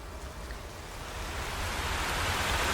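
Steady rain in a K-pop music video, a dense hiss of falling water that swells louder over a few seconds, with no voices over it.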